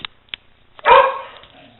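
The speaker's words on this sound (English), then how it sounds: "The dog is barking." A dog gives one loud, close bark with a short tail, after a couple of faint clicks, against otherwise quiet surroundings.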